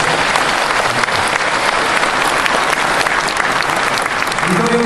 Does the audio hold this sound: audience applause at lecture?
yes